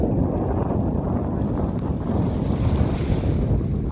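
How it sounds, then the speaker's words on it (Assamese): Strong wind blowing hard across the microphone, a loud continuous roaring buffet with gusty swells and no voices. "বতাহটো বম চালিয়া দি আছে"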